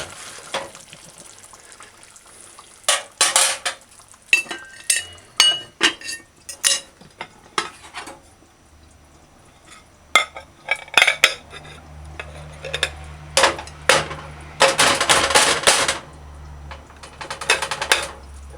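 Metal utensil scraping and clinking against a pot of pork stew as it heats, irregular bursts of clatter and stirring with quieter gaps and a low background hum, no talking.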